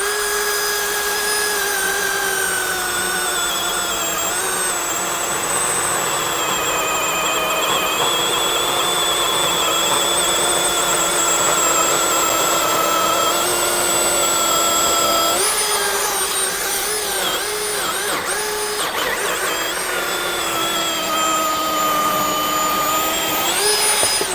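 A Milwaukee M18 Fuel 20-inch cordless high-output chainsaw, rated as equal to a 70cc gas saw, runs in a loud continuous whine for over twenty seconds. The pitch shifts slightly as it cuts in a side-by-side demo against a Forge saw.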